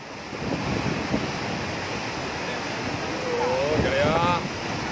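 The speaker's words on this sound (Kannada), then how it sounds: "ಇಲ್ಲಿ ನೀರು ತುಂಬ ಹೋಗ್ತಿದೆ" Water rushes out through the gates of the Hemavathi reservoir dam at Gorur in a steady, loud, broad roar, with a brief whistling tone rising over it near the end.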